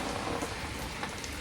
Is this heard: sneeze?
no